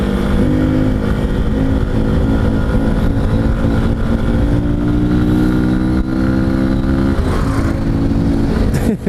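A motorcycle with its exhaust hose removed revs loudly right up close, a raw rumbling roar that rises and holds with throttle changes for the whole stretch.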